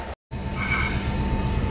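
A WDP 4D diesel locomotive hauling an Indian express passenger train, heard as a steady close rumble and rolling wheel noise after a brief cut, with a faint whine above.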